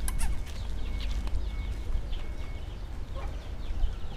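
Chickens cluck repeatedly in an enclosure at a mini zoo, a cluster of short close calls over a steady low outdoor rumble, with no talking.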